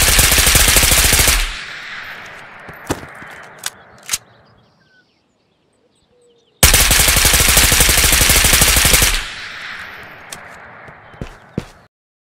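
A gun fitted with a Halo Mini Grip fires in the video game Ghost of Tabor. Two loud, rapid automatic bursts come a few seconds apart, each followed by a few sharp clicks and clatters.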